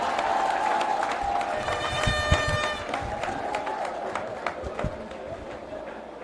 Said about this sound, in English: I know you are going to clap a very big hand for His Excellency